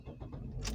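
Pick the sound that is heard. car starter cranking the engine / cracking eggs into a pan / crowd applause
car starter cranking the engine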